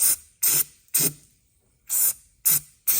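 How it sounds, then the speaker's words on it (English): Six short, sharp hissing bursts from a spray can of undercoating aimed at the sway bar area of a Ford Crown Victoria, each squirt about a quarter second long with brief pauses between, close and fairly loud. "Give her one more squirt of undercoating"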